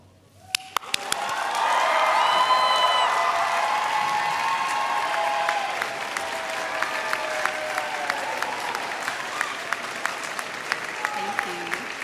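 A graduating class at a university convocation applauds family, friends, faculty and staff, loud sustained clapping and some cheering building quickly and holding, then easing slightly while a voice speaks over it.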